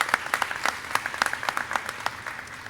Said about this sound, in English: Give them a big round of applause for these 18 students on the stage.